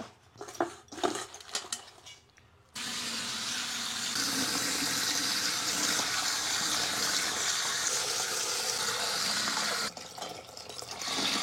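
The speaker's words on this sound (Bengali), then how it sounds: "বালতিতে করে ধোবো, বেশি জল দিয়ে ধুতে হবে।" Water pours and splashes steadily into a bucket as leafy China greens are washed, a continuous rushing wash close by after a few seconds of handling clatter, easing off near the end.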